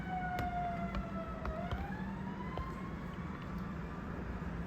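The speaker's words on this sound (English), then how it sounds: "I got sirens going on" A wailing emergency siren rises and falls steadily over a constant rumble of traffic, fairly distant but clearly heard throughout.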